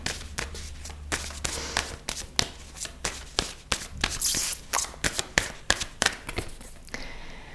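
Art oracle cards shuffled by hand, a rapid series of crisp flicking and tapping snaps, close and fairly quiet, with a brief riffle burst midway.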